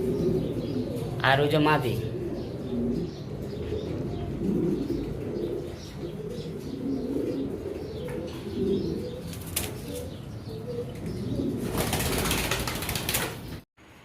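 A pair of bright red Bombay fancy pigeons in their nesting bedding give soft, low coos close by, with a rush of wing flapping near the end, under steady talking.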